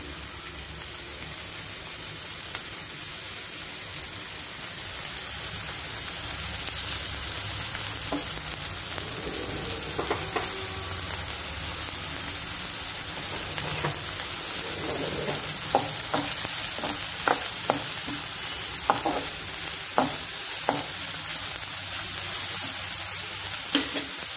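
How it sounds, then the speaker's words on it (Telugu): Onions fry in a pan beside ridge gourd with a continuous hissing sizzle like light rain, and scattered sharp ticks and pops grow more frequent toward the end. "ఉల్లిపాయలు బాగా ఫ్రై అవ్వాలి."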